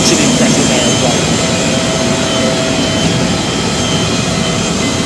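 Emirates Boeing 777ER jet engines at London Stansted Airport, a loud, continuous roar with a high whine held steady throughout, close by and with no talk over it.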